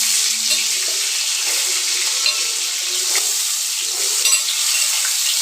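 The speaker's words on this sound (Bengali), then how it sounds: "আমার তেল গরম হয়ে গেছে, তো আমি পটলগুলো দেবো।" Pieces of pointed gourd (potol) fry in plenty of hot oil in a kadai over low gas, giving a loud, even, close sizzling hiss throughout with no speech.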